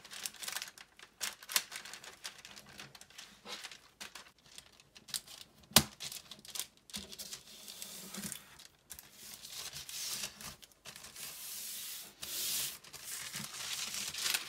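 Glassine paper is folded and creased into an envelope with close, faint crinkles, rubs and sharp crisp snaps, coming in irregular bursts separated by quiet pauses.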